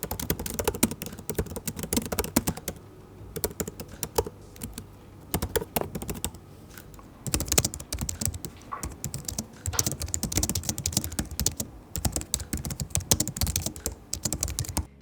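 Typing on a Logitech MX Keys Mini keyboard with ABS keycaps: a long, steady stream of soft, close, fairly quiet key presses, with brief pauses between bursts and no talking.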